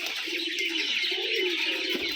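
An imported pigeon coos in a low, soft, continuous murmur at a pigeon farm, with other birds chirping faintly in the background.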